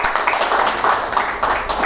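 An audience at a Ramadan music conference on Andalusian Sufism gives a short burst of steady, close applause, a dense patter of many hands clapping at once.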